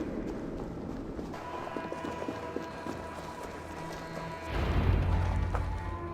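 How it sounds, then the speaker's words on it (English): Heavy footsteps approach in the Assassin's Creed Valhalla video game as a rhythmic thudding, clip-clop-like tread under ambient game music, growing louder and closer near the end. "That sound. Is it thunder? Footsteps."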